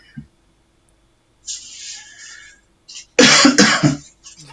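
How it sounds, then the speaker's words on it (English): A short burst of coughing, fairly close and loud, after a quiet stretch with a faint hiss and small noises. "I heard him cough."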